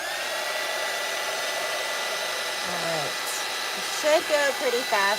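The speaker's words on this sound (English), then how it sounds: "let's grab the heat gun" A heat gun blows a steady, loud whooshing roar throughout, with someone speaking briefly over it near the end.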